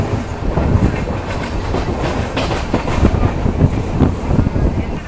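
The Mangala Lakshadweep Express passenger train rolls steadily toward Kozhikode railway station with a dense, continuous rumble and rattle of wheels and carriages, loud and close from inside, with wind noise mixed in.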